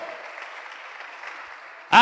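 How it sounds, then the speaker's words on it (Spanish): A church congregation claps their hands steadily for about two seconds, a dense even patter, before a loud voice cuts in at the very end. "Dele fuerte las palmas al bendito Señor."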